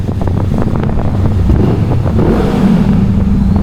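A motorcycle exhaust roars and revs close by on a road near the Kaybiang Tunnel in Cavite, Philippines, with wind buffeting the microphone throughout.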